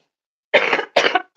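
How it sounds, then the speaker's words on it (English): Three harsh coughs in quick succession, close and fairly loud, after a short silence. "I've got a slight cough."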